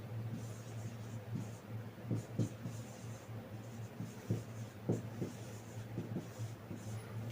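Pen strokes scratching across paper while a trigonometry solution is written out, short close scratchy bursts in an irregular rhythm over a steady low background hum, with no voices.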